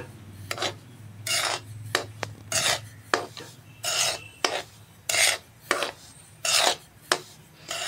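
Semolina and gram flour roast in a pan while being stirred, making loud, close scraping strokes in a steady back-and-forth rhythm, about a dozen passes, with no talking.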